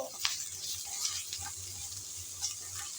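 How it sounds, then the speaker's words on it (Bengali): Water splashes into cumin, coriander powder and salt frying in oil in a pan for a papaya dish, a soft sizzle and watery hiss with a few light clinks, close and steady. "মশলা যাতে পুড়ে না যায় সামান্য দিয়ে দেব পানি"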